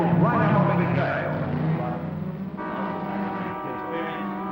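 Holden Torana XU-1 era race cars at Bathurst drone and roar steadily beneath a commentator's continuous voice, engine tones shifting as cars pass.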